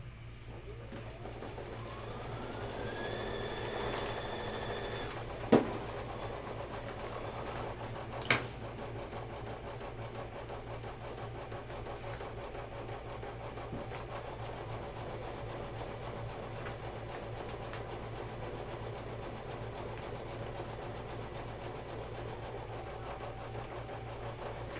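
Embroidery sewing machine stitching out a quilt block for a Halloween candy corn shop quilt, a steady mechanical hum running continuously with a couple of sharp clicks near the start.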